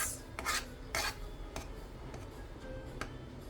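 A spoon scrapes and taps against a bowl while a three-ingredient dessert mixture is stirred, giving a few sharp clinks and soft rubbing strokes at a quiet, close level.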